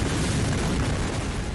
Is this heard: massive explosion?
yes